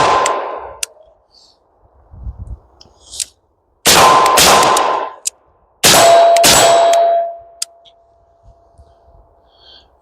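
Three loud, sharp rifle gunshots ring out at an outdoor range from a rifle with an Odinworks barrel. Each shot is widely spaced and leaves a metallic ringing tail, with quiet gaps between them.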